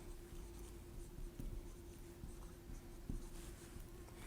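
Pen or marker scratching out a math equation on a writing surface, a steady faint scraping with occasional taps over soft background noise, no talking.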